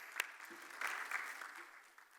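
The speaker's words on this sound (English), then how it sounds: "A big round of applause." An audience at a healthcare panel discussion in Dubai applauds as a moderator is welcomed on stage, a steady wash of clapping at moderate volume with a faint voice underneath.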